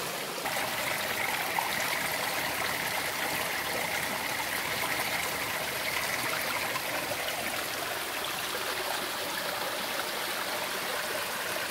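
A mountain stream in the Ngoc Linh ginseng area rushes over rocks in a low gully, a steady, loud, continuous wash of flowing water with no voices.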